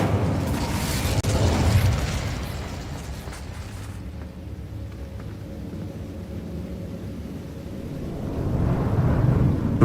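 An Incendio fire spell in Hogwarts Legacy, a sustained roaring, rumbling burst of flame and combat noise that dips after a few seconds and swells again near the end, with no talk.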